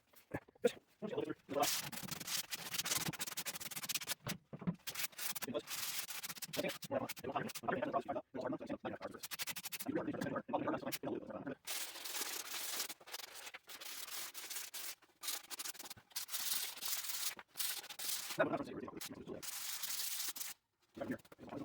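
Hand sanding an old wooden school desk with 180 grit sandpaper, a quiet rasping rub in repeated strokes with brief pauses between them, heard close and alone.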